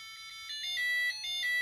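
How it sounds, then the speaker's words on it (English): Square Clock 510 budget alarm clock going off: a bright electronic alarm tone beeping in short repeated bursts, close and fairly loud, with no other sound. "So it's now firing up the alarm"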